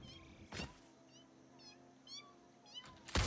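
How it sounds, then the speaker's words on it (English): Hostile cat creatures in the Satisfactory video game let out several short, rising meows scattered across the moment, set against a steady droning game ambience, with a couple of sharp thuds and a loud burst at the end. "There's a cat in the ground."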